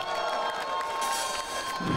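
Concert audience at a chanson festival applauds and cheers a singer taking the stage, a dense, steady wash of clapping and shouts that swells slightly toward the end.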